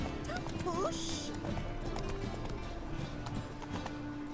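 Roach the horse gallops in The Witcher 3: Wild Hunt with steady clip-clop hooves and short whinnies, under continuous talk.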